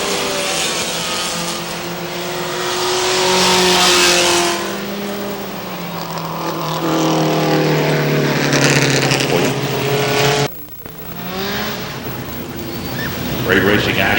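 Race cars roar past on the Star Speedway oval in New Hampshire, engines rising and falling at close range as the pack heads for the checkered flag, with a commentator talking over the noise.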